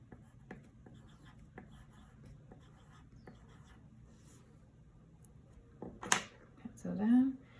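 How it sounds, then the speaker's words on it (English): A pencil colors and shades on paper in soft, scratchy strokes that repeat unevenly and sit close and quiet, with a voice briefly heard near the end. "I want my dishes to be white, so I'm gonna color the background around the dishes, and I'm going to just shade a little bit"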